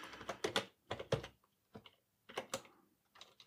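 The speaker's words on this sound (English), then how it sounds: "I'm going to just type in my credentials here." Quiet typing of login credentials on a computer keyboard, with short clusters of soft key clicks separated by brief pauses, close and alone.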